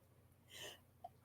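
A single sharp sneeze bursts out at the very end after handling a heap of yarn, preceded by a brief soft breath and near silence.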